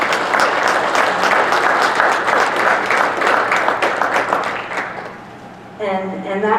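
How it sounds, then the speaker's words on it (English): A concert audience at a senior high band concert breaks into sustained applause, dense and steady for several seconds before thinning out, then a voice begins speaking near the end. "So if you could give that student, anonymous student, a round of applause"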